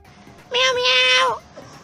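A person's voice imitates a cat's meow: one drawn-out, nasal meow, fairly close and clear.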